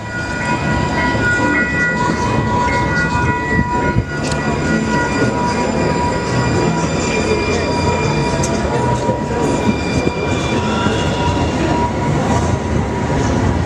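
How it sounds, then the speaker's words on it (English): A train rolls past close by, a loud continuous rumble of wheels and rail cars with metallic squealing tones and a brief horn-like note, steady for the whole stretch. "Uh-oh. Train coming. They better get out the way."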